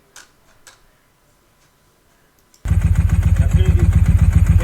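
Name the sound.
Ducati 748 motorcycle engine idling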